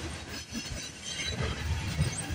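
A CN container freight train rolls past at a trackside meet, a steady broad rumble of wagons and wheels with faint metallic squeals, fairly loud and continuous, with no voices.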